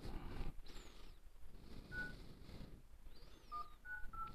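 Keypad tones from the dialer on a Poco X3 NFC running MIUI 12.5: a few short, clear beeps spaced apart, the later ones in a quicker cluster, over a busy background of hiss and low rumble.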